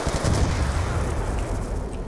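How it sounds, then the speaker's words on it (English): Explosions and gunfire fill the Black Ops 2 Zombies game scene as a dense, continuous, loud barrage of booms and shots with no clear gaps between them. "Oh, I love the explosions everywhere."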